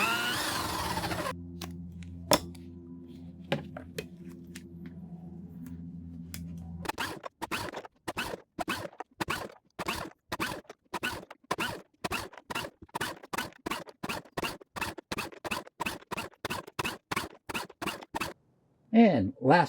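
A knife scrapes along Romex cable to strip off its sheathing, a rapid run of short rhythmic scratching strokes after an earlier hum and a few sharp clicks, fairly close and with no voices over it.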